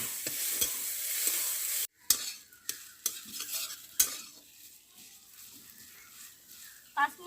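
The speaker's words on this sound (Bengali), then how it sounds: "5 মিনিট ধরে আমি ভেজে নেব।" Kharkol leaves fry in mustard oil in a wok, giving a steady close sizzle with sharp stirring scrapes and clinks that come in bursts, then a quieter stretch of frying.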